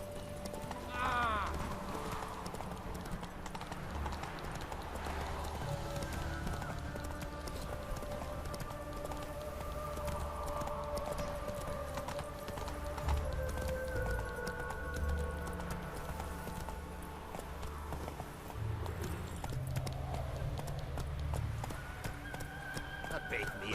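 Horse hooves clip-clop at a steady gallop in The Witcher video game, with an occasional whinny, running under game dialogue and music throughout.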